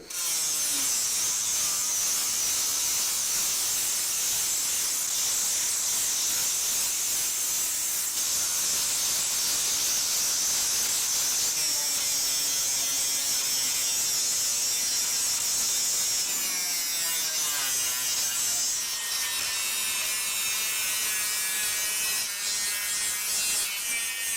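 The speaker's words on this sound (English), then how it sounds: "I'm gonna choose an unused abrasive wheel" An abrasive grinding wheel scours rust from a Jaguar S-Type differential, a loud, steady high hiss and whine that runs without a break, with the pitch wavering as the wheel's pressure shifts.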